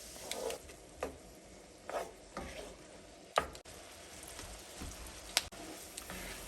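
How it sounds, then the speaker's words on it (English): Onions cook in melted butter in an Instant Pot with a soft, steady sizzle, broken by several quiet scraping stirs and a couple of sharper knocks against the pot. "we want to melt the butter and we want the onions to be really coated in the butter as well"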